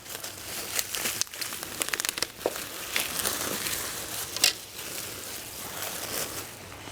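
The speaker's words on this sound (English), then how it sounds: "Let's unwrap." Plastic packaging crinkles and crackles as a DJI Agras T50 agricultural spray drone is unwrapped, close and steady, with sharper rustles and a louder tearing crunch partway through, no voices.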